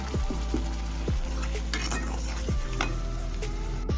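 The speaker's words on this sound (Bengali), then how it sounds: "এবার যতক্ষণ না মশলা থেকে তেল ছাড়বে ততক্ষণ আমি মশলাটা কষাবো" Tomato and spice masala being sautéed in oil, sizzling steadily while a spoon stirs and scrapes the pot in repeated knocks, close and loud with no talking.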